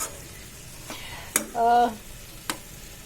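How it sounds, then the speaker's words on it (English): Sabji in hot mustard oil gives off a faint low sizzle, broken by a few sharp clinks and scrapes of stirring and a brief tonal hum in the middle. "let the oil heat up so that the raw smell of the mustard goes away, and then you again mix it with the sabji"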